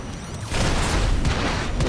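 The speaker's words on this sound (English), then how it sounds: "Oh, that explosion effect is sexy." A loud, dense explosion effect from the video game Risk of Rain 2 bursts in partway through and rumbles on with crackling debris, heavy and sustained to the end.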